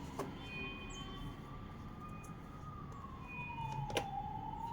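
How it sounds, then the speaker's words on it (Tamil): An ambulance siren wails in the distance, one steady tone gliding slowly up and down over low background rumble, with a couple of short knocks nearby. "ஆம்புலன்ஸ் சத்தம் கேட்குது"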